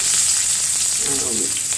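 Onion hits hot coconut oil with popped mustard seeds, giving a steady, close sizzle with soft crackling throughout.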